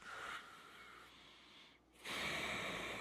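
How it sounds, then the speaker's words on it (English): Slow, focused breathing through the nose with the back of the throat restrained, a soft airy hiss drawn in and then let out, close and alone, with a brief pause between breaths. "just breathing in and out through your nose, sort of restraining the back of your throat"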